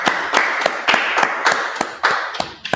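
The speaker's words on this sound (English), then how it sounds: "All right, let's clap it up." A law class in Harlem, New York claps hands together in a brisk, uneven rhythm of about a dozen sharp claps over roughly three seconds, close and fairly loud with no talking.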